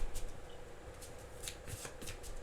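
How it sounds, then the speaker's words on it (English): Tarot cards being shuffled and drawn by hand, a close, continuous papery riffle and flutter with soft card slaps, heard alone without talk. "Let me pull one more card"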